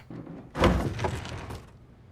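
A door shuts with a single solid thunk that lingers briefly, heard alone without any talk.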